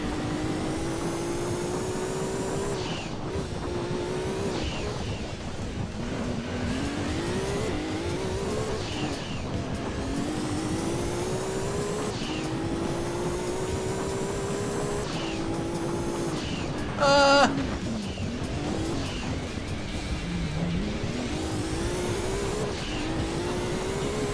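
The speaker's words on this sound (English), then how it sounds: "I love how my engine sounds quite a lot different to his." Race car engines in Gran Turismo 2 drone and rev steadily, pitch sweeping up and down through gear changes, with a brief sharp tire squeal near the end, continuous and loud throughout.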